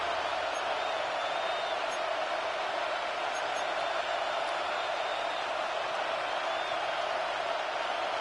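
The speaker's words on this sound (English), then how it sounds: "This crowd into it now as we get to 3rd down." A football stadium crowd roars steadily as a play approaches third down, a dense, constant wash of cheering and noise that holds at an even level throughout.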